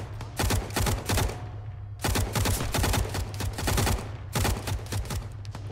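Burst-fire rifle shooting in the military game Arma 3 in a Western Sahara setting, three clusters of rapid shots separated by short pauses, loud and close.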